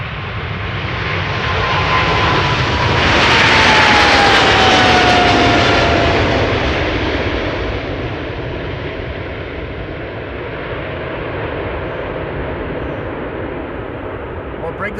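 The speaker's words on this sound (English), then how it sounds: "China Southern Cargo going to Guangzhou in China. Flight 2572, 777 freighter" A China Southern Cargo Boeing 777 freighter departs Amsterdam Schiphol, its jet engines roaring loudly with a descending whine that peaks early, then gradually fades into a steadier, more distant rumble.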